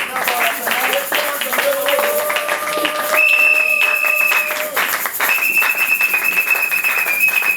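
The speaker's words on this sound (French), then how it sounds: "j'aimerais que vous acclamez très fort le Seigneur" Church congregation applauds and cheers as a choir passes, a steady crowd clapping with cheers under sustained whistle or keyboard tones and a voice.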